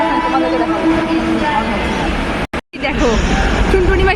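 A metro train runs along the track with a steady rumbling drone and a brief cutout midway. A voice and faint background chatter are heard over it.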